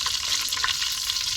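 Hot oil sizzles steadily in a pan used for frying shrimp, a continuous close hiss with a faint stir or clink partway through, no voices.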